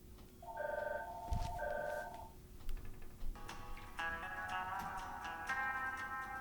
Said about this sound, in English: Hold on, it's the phone.